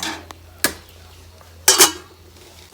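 Metal lid set back on a pot of bamboo shoot curry, giving a few sharp clanks and a louder double clatter of metal on metal in a quiet kitchen.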